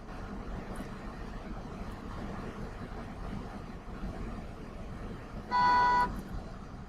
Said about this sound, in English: Honking ain't gonna solve nothing